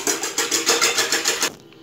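A hand whisk beats egg, salt and water in a bowl, a quick rhythmic series of close scraping strokes that stops abruptly near the end.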